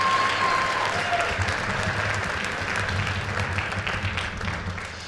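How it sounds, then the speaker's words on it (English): Audience applause after a school band concert performance, steady and fairly loud clapping from a large crowd sustained across the whole stretch, with low music or hum underneath. "Give her one more round of applause for an outstanding performance"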